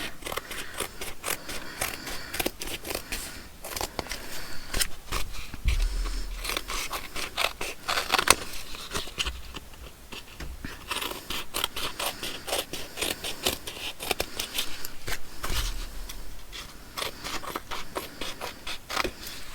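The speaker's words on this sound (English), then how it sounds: "Okay, so let's trim around this." Scissors trimming around a piece of embossed painted paper: a long run of rapid crisp snips and papery crunches, close and fairly loud, with short pauses between cuts and no talking.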